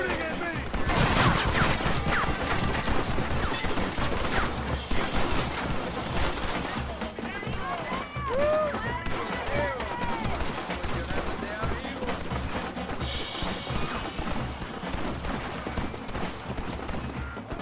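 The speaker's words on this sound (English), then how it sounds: "Stop shooting at me!" Gunfire crackles through a Red Dead Redemption game cutscene, with repeated shots and bursts scattered across the scene among clatter and effects, loud at first then continuing under voices talking.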